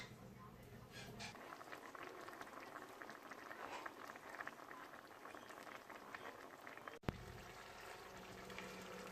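Chana masala chickpea curry sauce simmering in a pan on low-medium heat, a steady close bubbling and crackling with a brief knock near the end.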